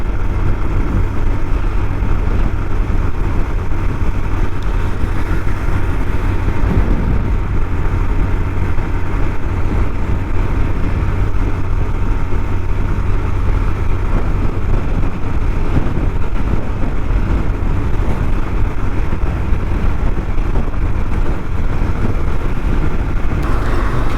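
Riding a motorcycle along an open road toward Upper Vaitarna Dam near Igatpuri gives a constant, loud, low roar of engine and wind rush that stays steady and unbroken throughout, with no speech.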